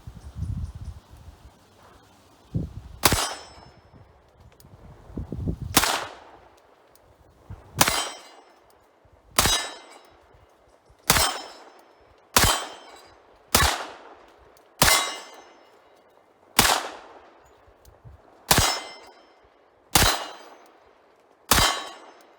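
A 10mm EAA Witness pistol fires about a dozen shots, each followed by a sharp ringing clang from a struck swinging steel plate, spaced evenly one to two seconds apart, loud with a metallic ring decaying after each.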